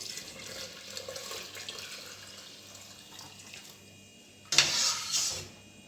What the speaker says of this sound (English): I'm going to be pouring the coconut milk in the pot with the peas